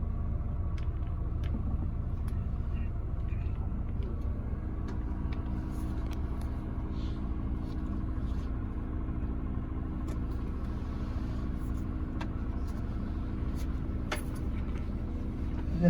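A tour bus in Copenhagen rumbles steadily with a low engine drone throughout, with occasional faint clicks and rattles inside the cabin, continuous and close.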